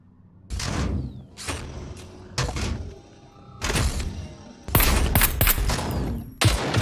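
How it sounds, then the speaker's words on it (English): Gunshots trade back and forth in the survival shooter SCUM, loud separate blasts spaced about a second apart at first, then a denser close burst of several shots near the end, each with a short ringing tail. "He's shooting once, I'm shooting once."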